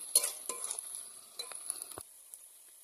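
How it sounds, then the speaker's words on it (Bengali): Red amaranth greens tossed into hot oil give a faint, soft sizzle with scattered stirring clatter and a sharp knock near the two-second mark. The sound is quiet overall, with no voices. "এবার লাল শাকটা দিয়ে দিলাম"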